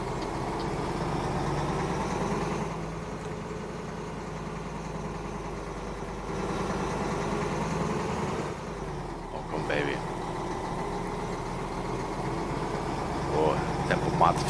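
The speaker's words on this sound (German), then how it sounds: "Der macht aber auch einen Krach, der LKW, oder?" Truck engine in Euro Truck Simulator 2 drones steadily at a low, moderate level, with occasional shifts in tone, while someone talks over it throughout.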